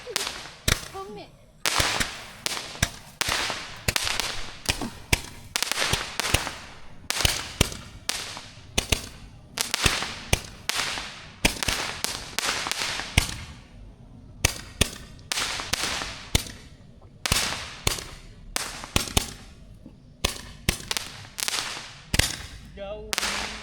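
Homemade fireworks go off on the morning of Hari Raya, giving dense sharp cracks and pops in rapid irregular bursts across the whole stretch, loud and close, with voices faintly mixed in.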